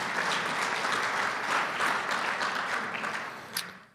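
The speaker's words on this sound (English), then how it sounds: "How about one more round of applause for our entire" Sustained audience applause at a 2024 conference on the future of energy: dense, loud clapping from a large crowd that holds steady, then thins and fades at the end.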